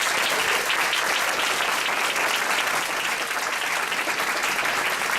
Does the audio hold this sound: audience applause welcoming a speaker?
yes